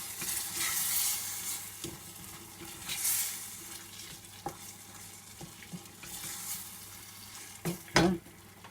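Cut-up chicken breast pieces frying in a pan for chicken curry, a steady sizzle with intermittent stirring scrapes and clatters, louder bursts near the end.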